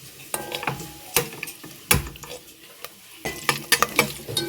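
Ghee sizzling in a pan while frying ingredients for chicken gravy and ghee rice, with spoon stirring and scraping against the cookware in sharp irregular clatters alongside a soft frying hiss.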